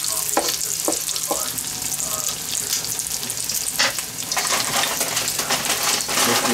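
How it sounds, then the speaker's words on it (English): Sweet corn kernels fry in a hot pan with a dense, even crackling sizzle throughout, broken by a few light clicks and stirring knocks, close and unvoiced. "And now we're gonna bring the corn in. I'm gonna fry the corn."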